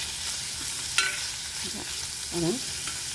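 Onions sautéing in a pan while cooking Kerala-style ulli theeyal, with a steady soft sizzle throughout and a few brief clinks and scraping stirs of a utensil against the pan.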